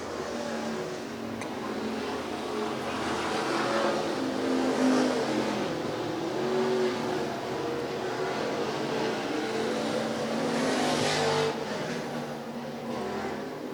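IMCA stock cars racing in a main event at USA Raceway, a steady loud roar of several engines with rising and falling revs as the cars circle the track, no talk.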